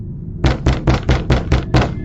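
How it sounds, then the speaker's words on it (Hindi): Seven evenly spaced knocks on a bedroom door, loud and close, a horror audiobook sound effect with no voices. "रात के 3 बज रहे थे। ईशा अपने रूम में सो रही थी कि तभी उसकी रूम का दरवाज़ा कोई खटखटाता है।"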